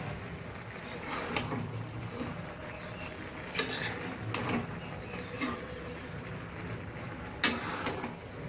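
Cabbage cooked with fish head stirred in a pan, faint clatter and scrapes of a spoon against metal in a few separate bursts over quiet background hiss.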